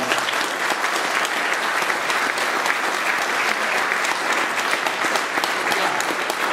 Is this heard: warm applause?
yes